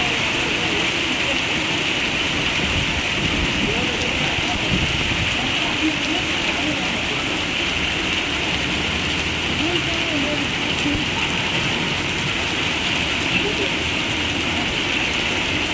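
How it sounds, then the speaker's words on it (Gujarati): Dense, heavy rain pours continuously in Rajkot in March, a loud unbroken wash of hissing water with scattered patters and drips throughout. "આટલો બધો વરસાદ છે"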